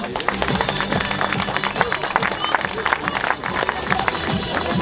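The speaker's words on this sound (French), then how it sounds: "Applaudissements, merci." Crowd applauding at a triathlon prize ceremony in Seurre, steady dense clapping mixed with a few cheers, fairly close and continuous across the moment.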